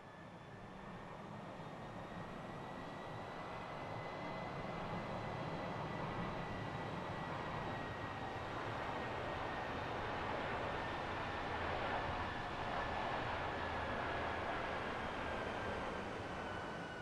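Airbus jet engines roar with thrust reversers during a landing rollout, a broad, steady rushing noise with a faint whine on top, heard from inside the aircraft, continuous and fairly quiet, with no talking.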